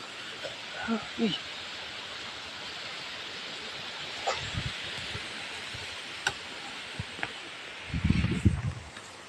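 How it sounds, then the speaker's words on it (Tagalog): Broad, steady rushing of strong wind through trees during coconut hauling, with a few low gusty buffets and faint ticks scattered throughout. "malakas ang hangin dito ngayon namin tinatrabahoan"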